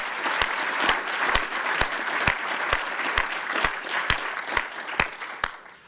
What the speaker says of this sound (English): I just want to ask for a round of applause for all of them